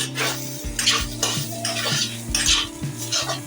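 Vegetables for a Bengali mixed veg curry being stirred in a pot with a metal spoon after the lid comes off: steady scraping and clinking strokes over a soft simmer, close and fairly loud, with no talking.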